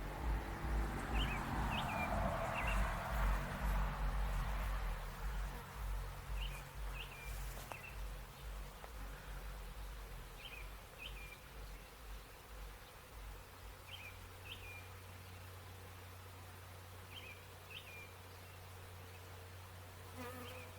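A swarm of honey bees hums in a dense, continuous buzz outdoors during a removal, with brief bird chirps repeating faintly above it.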